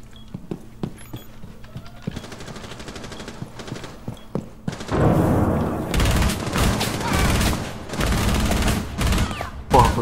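Gunfire in the tactical shooter Rainbow Six Siege, with scattered single shots and then dense, loud automatic bursts, mixed with keyboard clatter and a low background hum.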